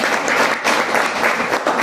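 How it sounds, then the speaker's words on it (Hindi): Loud applause from an audience for a speaker at a business gathering, a dense wash of clapping hands in slight surges. "सर के लिए एक बार जोरदार हम लोग ताली देते"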